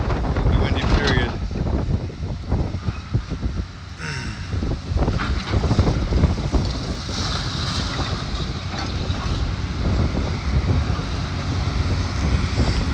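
Strong wind buffets the microphone at a school demolition site, a continuous loud roar with gusty bursts and rumble, while water spraying and machinery blend into the background.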